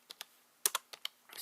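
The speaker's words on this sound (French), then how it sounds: "Après avoir ouvert CMD, vous allez taper net" Keystrokes on a computer keyboard while entering a command in the Windows 10 command prompt: a handful of sharp, close clicks in irregular bursts, growing into quicker typing at the end, with no voices.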